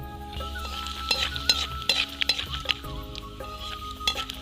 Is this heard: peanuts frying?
yes